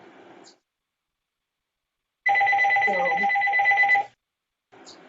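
A telephone ringing nearby, one steady electronic ring lasting about two seconds, with brief speech just before and after it.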